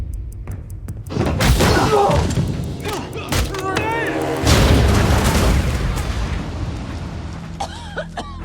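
Loud booming explosions and crashes with debris and rumbling, mixed with shouting voices and music, dense and chaotic, from a Black Widow scene in a Marvel film.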